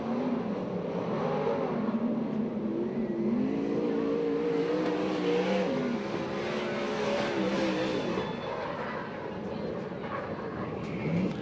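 USAC/CRA non-wing sprint cars racing at Alger, Washington, their engines blending into a sustained, fluctuating roar with rising and falling revs, heard from a distance beneath a public-address announcer talking throughout.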